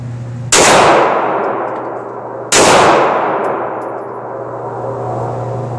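Two loud pistol shots fired in a 12-shot drill, spaced about two seconds apart, each a sharp crack trailing into a long echoing decay.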